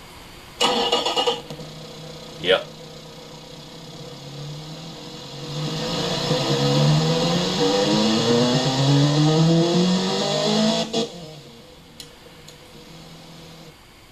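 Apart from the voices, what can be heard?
inline four-cylinder car engine in video game Automation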